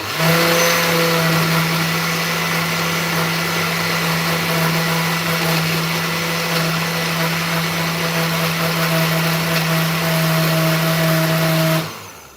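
A blender pulses ice for a pineapple pina colada smoothie, a steady loud motor whine with a droning tone that holds almost unbroken, then cuts off abruptly at the end.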